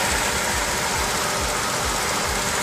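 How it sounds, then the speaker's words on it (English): A big RV engine idles steadily up close, a loud, even low rumble with a faint rhythmic pulsing and no talking. "So there's the big old, the big engine purring away."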